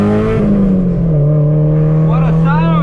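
A Honda S2000 AP2 fitted with a Tomei exhaust drives under load, its loud, close engine note holding a steady drone that dips and then climbs again as revs rise near the end.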